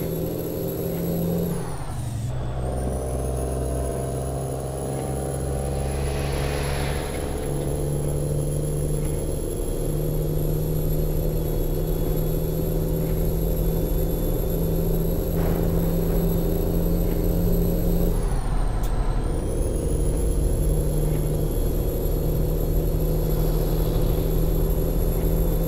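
A T908 truck in American Truck Simulator idles with a steady low diesel rumble and a constant high whine, while two sharp air-brake hisses burst out near the start and again around two-thirds through. No one speaks.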